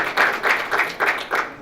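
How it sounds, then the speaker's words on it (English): Audience applause at a political event honoring a speaker, a steady burst of clapping from a crowded room with pulsing swells, fairly near and loud, with no talk over it. "the person who needs the most applause right now is Jim Moran"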